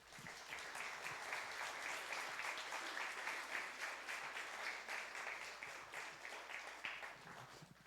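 A church congregation claps together in sustained, even applause, heard from a distance at low volume with no talking over it.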